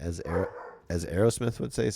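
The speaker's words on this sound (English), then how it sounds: "sorry, that was my dog barking and scaring me." A pet dog barks a few times indoors during a card-pack-opening stream, sharp bow-wow sounds mixed in with someone talking over them.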